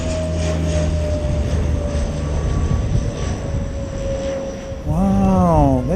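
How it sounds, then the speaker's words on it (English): A fixed-wing airplane takes off at Christchurch Airport on an unusually low climb, giving a loud, steady engine roar with a sustained whine that swells and shifts pitch near the end, heard from a nearby spotting mound. "Wow, that's a really low takeoff profile, that one."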